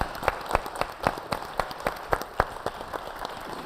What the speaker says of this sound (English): can we give our panel a big round of applause as well?